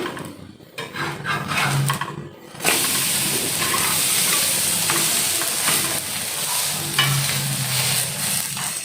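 Garlic butter naan cooking on a hot tawa gives a steady, close sizzle and hiss throughout, with occasional stirring or scraping clatter near the start and no talking.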